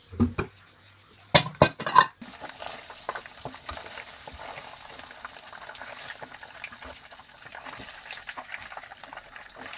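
Pork frying in a pan for a lunch of fried pork and chicken: a few sharp clatters of utensil on pan up front, then a steady, moderately loud sizzle with crackling pops running throughout.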